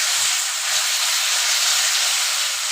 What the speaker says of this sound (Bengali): মশলাটা কষে আসছে, নিচে লেগে লেগে যাচ্ছে আর তেল ছেড়ে দিয়েছে।